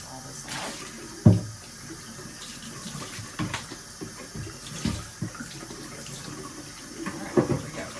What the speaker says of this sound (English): Rinse all this out.